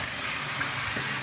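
Beer wort for a home-brewed brown bitter pours steadily through a strainer, a continuous broadband splashing and trickling rush that stays even and fairly close throughout.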